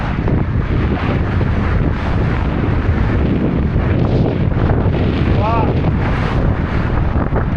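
Strong wind at a kitesurfing beach in Phan Rang buffets the microphone with a loud, constant roar and rumble, with surf washing underneath.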